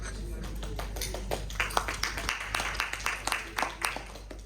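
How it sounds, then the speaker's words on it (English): An audience claps after a hotel safety briefing, giving a scattered round of applause with distinct individual claps rising over background murmur. "That's the first time I've heard a round of applause for a safety briefing"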